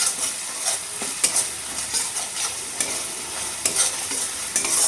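Masala spices fry in a pan over low flame with a steady hiss while a spoon scrapes and stirs, giving sharp periodic clicks close up, with no talking.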